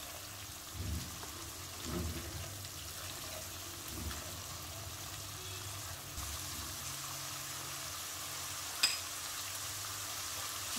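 Onions frying gently in a pan for butter chicken gravy, giving a soft, steady sizzle throughout with a few faint stirring knocks and one brief sharp click near the end.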